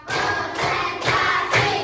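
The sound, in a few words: students clapping hands in counted rhythm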